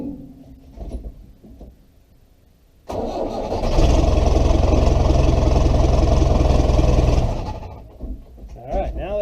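An engine cranks and fires up, then runs at a steady, loud idle for several seconds before dying down, with some low talk before the start and after it quiets.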